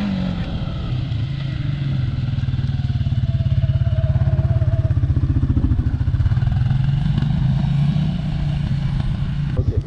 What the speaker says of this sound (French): Donc Alexandre est sur le Outlander Pro HD7 XU.